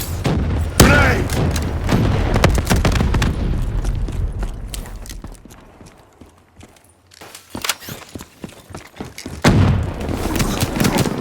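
A grenade blast amid gunfire in the video game Black Ops 3, Demolition mode: a loud booming detonation with rattling shots and crackling bursts, a brief lull, then another heavy blast, with game voice callouts mixed in.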